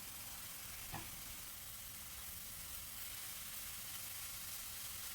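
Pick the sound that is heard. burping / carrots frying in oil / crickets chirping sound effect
carrots frying in oil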